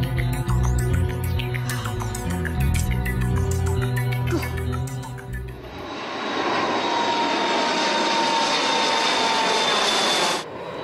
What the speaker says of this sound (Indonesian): Pesawat terbang di angkasa itu indah ya.